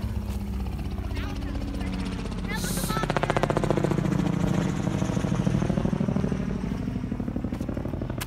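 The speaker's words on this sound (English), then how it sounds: "That helicopter sounds like it's over there." A helicopter passes nearby outdoors, its rhythmic rotor chop swelling louder mid-clip before easing off, with people talking over it.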